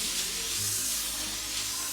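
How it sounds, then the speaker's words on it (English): A steady, broad hiss of Pam cooking spray onto a pan runs continuously for a couple of seconds, close and even, with faint low kitchen hum beneath. "Spray your pan with Pam spray."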